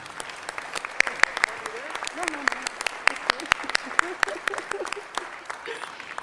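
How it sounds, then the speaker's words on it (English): Sparse, scattered applause at a college presidential investiture, individual claps popping distinctly over a quiet room with some voices talking underneath. "So please join me in giving Dr. Namuo once again a round of applause."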